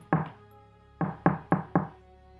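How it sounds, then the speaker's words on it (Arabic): Light knocking on an apartment door at night: one double rap, a pause, then four quick raps, crisp and close in an otherwise quiet room. "سمعت صوت خبط خفيف على باب الشقة"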